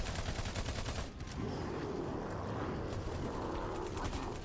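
Rapid gunfire rattles continuously in Battleborn, a fast repeating stream of shots over a busy game soundscape, briefly dipping before resuming.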